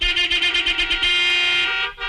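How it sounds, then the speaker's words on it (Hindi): A car horn blares loudly and close, first in a quick series of short rhythmic honks, then held in one long continuous blast before cutting off. "अंदर बैठ के हॉर्न क्या बजाता है?"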